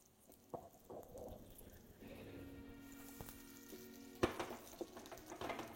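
A bun dosa fries in a pan with a soft, even sizzle, broken by a few sharp taps and clinks as it is turned with the back of a spoon.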